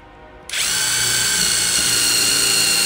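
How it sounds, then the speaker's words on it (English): A power drill starts suddenly and whines loud and steady while toenailing a screw in at an angle, running close and unbroken after a short quiet lead-in. "Pulling down, and then drilling in. You see how my drill is at an angle?"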